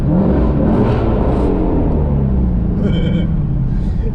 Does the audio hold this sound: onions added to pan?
no